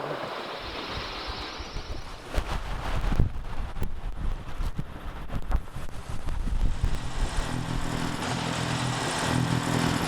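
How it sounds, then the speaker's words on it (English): Strong wind roars and buffets steadily across the microphone on a sailboat heading into the wind, a continuous heavy rush with gusty surges and low rumbling, no voices. "It's so windy while we're nosing into it"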